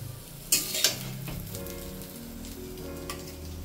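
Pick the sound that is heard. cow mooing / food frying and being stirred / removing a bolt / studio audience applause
food frying and being stirred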